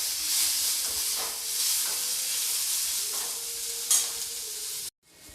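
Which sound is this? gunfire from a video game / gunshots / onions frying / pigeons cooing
onions frying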